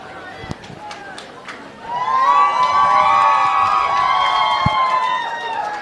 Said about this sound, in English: crowd cheers him off